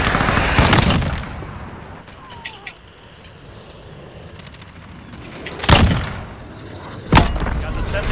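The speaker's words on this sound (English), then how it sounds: "We're taking shots" Gunfire in the video game Modern Warfare: two sharp, loud broadband bursts stand out late, with an earlier cluster of shots at the start, over a low steady game ambience.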